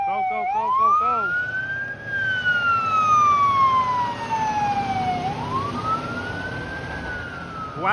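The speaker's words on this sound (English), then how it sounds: "The fire truck is coming from the Toronto Fire Station." A Toronto fire truck's siren blares loud and close, starting with quick yelps and then wailing in slow rising and falling sweeps over street traffic noise as it passes.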